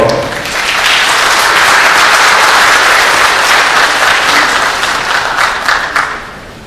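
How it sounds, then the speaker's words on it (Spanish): Sustained audience applause fills a hall at an academic law convention, loud and continuous for several seconds before tapering off at the end, with no speech over it. "Fuertes palmas, por favor."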